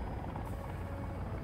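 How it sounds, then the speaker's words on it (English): A helicopter flies in the video game Sons of the Forest, giving a continuous whirring rotor and engine drone that stays steady and fairly faint for the whole moment, with no speech. "I'm on a helicopter, flying parallel with another"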